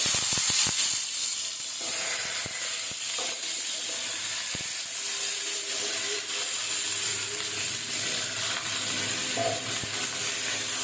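Steady oil sizzle and hiss as potatoes and pointed gourd fry in a pan, with a few sharp clicks and stirring scrapes early on.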